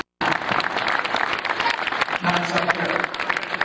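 A crowd at a retirement ceremony at Glenbard West claps steadily in warm, continuous applause, while voices murmur and a speaker talks faintly underneath.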